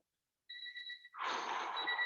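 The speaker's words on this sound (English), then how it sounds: "that is the timer telling me it's about time to be done with movement prep" A workout timer alarm goes off during an exercise class: a faint, steady two-tone electronic beeping, then a burst of breathy noise joins it while the tone carries on.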